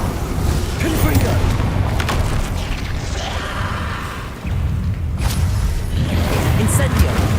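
Repeated Confringo fire spell blasts in Hogwarts Legacy, loud booming explosions with whooshes and crackling debris over a dense, continuous game soundscape, with a voice speaking intermittently.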